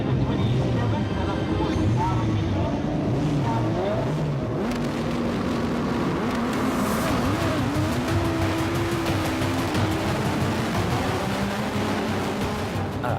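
Formula Vee race cars with 1400 motors and semi-slicks race on a circuit, several engines droning and rising in pitch together, loud and continuous, with a voice talking over the racing.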